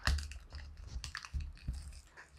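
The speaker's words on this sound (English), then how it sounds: "That's my dog's eating breakfast." A dog crunches dry food at breakfast, a series of close, quiet, irregular crisp bites and chewing clicks with short pauses between them.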